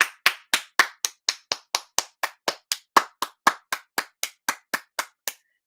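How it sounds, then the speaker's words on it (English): One person claps at a steady rhythm, about twenty crisp, separate claps close up, loud and evenly spaced, then stops, with no voices. "Can we all applaud?"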